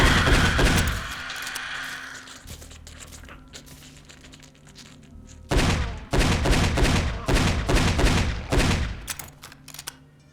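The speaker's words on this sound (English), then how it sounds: "This revolver hits so hard." Heavy revolver shots in the Doom 3-style game Mother Hub, a loud burst near the start, then after a quieter gap a rapid string of sharp, closely spaced blasts with trailing echoes.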